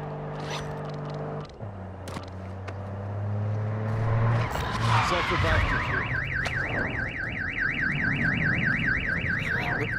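A video game car alarm starts up after a crash and wails in a loud, rapidly oscillating siren pattern, rising over scraping, clattering noises and engine hum, with people talking.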